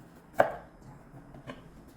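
Two crisp knife chops on a cutting board while preparing vegetables for japchae, the first louder, the second about a second later, with quiet in between.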